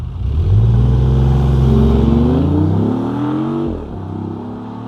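The engine of a 2019 BMW i8 Roadster, with sound piped into the cabin, revs up with a rising, throaty growl, climbs in pitch, then drops back abruptly to a lower idle hum.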